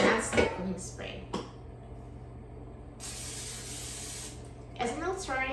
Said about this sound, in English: let me start out by spraying the air fryer basket with a non-stick cooking spray